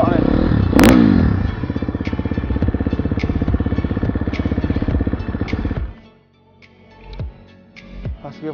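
A 2022 Husqvarna 250cc supermoto motorcycle engine idles close by with a steady rapid two-stroke-like putter and a brief rev near the start, then cuts off, followed by faint thumps and scrapes.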